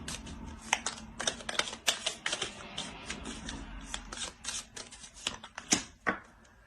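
Tarot cards shuffled by hand close up: a rapid, irregular run of crisp snaps and riffles, with no voices.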